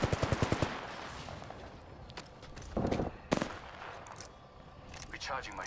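Gunfire in the video game Apex Legends, opening with a rapid burst of evenly spaced automatic shots, then scattered louder single reports and bursts over game noise and a voice.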